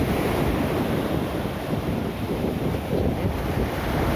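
Roaring sea surf breaking on a beach, a dense, steady wash of broadband noise with wind buffeting the microphone throughout, no voices.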